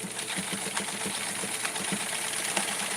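A sewing machine stitches a seam on a small doll's halter dress, whirring steadily with a quick, even pulse of needle strokes, close and fairly quiet throughout, with no voices.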